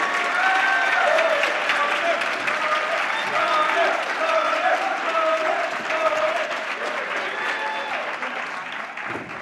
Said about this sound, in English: warm round of applause for Alex O'Connor.